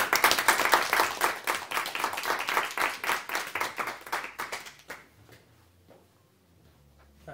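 Applause at a Pirate Party extraordinary general meeting: a roomful of hands clapping steadily and fairly close for about five seconds, then thinning into a few scattered claps before fading to near silence.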